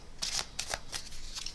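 A deck of playing cards is shuffled by hand during a magic card trick, several quick riffling bursts close by, crisp and fairly quiet.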